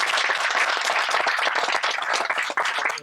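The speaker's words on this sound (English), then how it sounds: "I want to give him a round of applause." Sustained applause from a crowd at an outdoor groundbreaking ceremony for the Perry Welcome Center, dense steady clapping throughout with a brief dip near the end.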